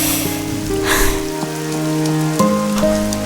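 Rain falls on a surface with a steady patter, fairly loud and continuous, while sustained tones and a few sharp knocks run alongside it.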